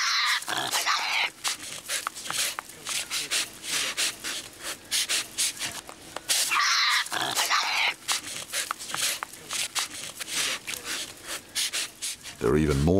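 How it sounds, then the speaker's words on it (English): Hyenas fight over a cow carcass in the Australian wild, harsh rasping snarls and scuffling bursts close by, rising loud in repeated surges. "Once their meal is threatened, they become very aggressive, scrapping loudly with one another."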